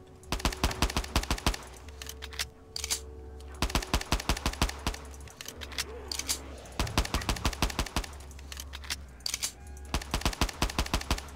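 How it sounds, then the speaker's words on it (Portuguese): Gunfire in a custom zombies shooter game: repeated bursts of rapid automatic shots, each a string of sharp close cracks, broken by short gaps, with a low rumble under some bursts and a little faint talk. "O barulho da arma é gostosinho."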